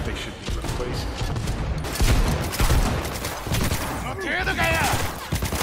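Shotgun blasts and rapid gunfire in the video game Cyberpunk 2077, loud, close bursts in a busy fight mix, with someone talking over parts of it.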